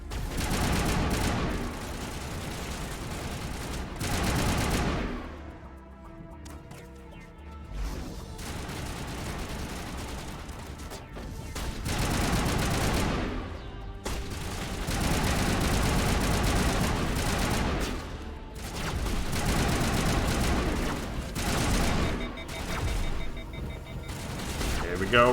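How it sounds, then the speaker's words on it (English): Sustained gunfire from Mass Effect (Legendary Edition, PC), with dense bursts of shots recurring across the whole stretch, loud and near, interrupted by brief lulls, with game engine hum underneath. "Who the fuck is shooting me?"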